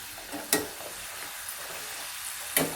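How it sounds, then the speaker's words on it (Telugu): Corn flakes mixture fries in oil until brown, a steady soft sizzle with two sharper crackling bursts, close and fairly quiet with no talking. "ఆయిల్లో ఇదిగోండి ఇట్లా బ్రౌన్ కలర్ వచ్చేంత వరకు మనం వేపుకొని తీసేసుకోవటం"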